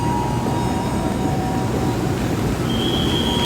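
Matarmaja passenger train arriving at a station in Indonesia: a continuous loud rumble of rolling wagons with faint high wheel squeal tones, steady throughout with no speech.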